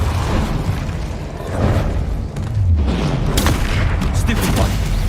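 Dense, loud bursts and booms of spell effects in Hogwarts Legacy on PS5, Incendio fire and Repulsor blasts layered in continuous chaotic combat noise.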